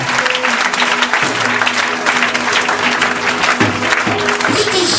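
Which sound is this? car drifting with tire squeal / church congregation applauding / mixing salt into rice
church congregation applauding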